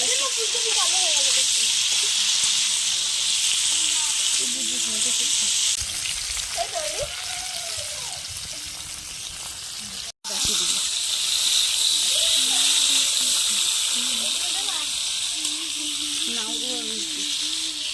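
Steady, loud sizzling of purple cauliflower frying in a pan on a stove, with a brief break midway and faint talk underneath.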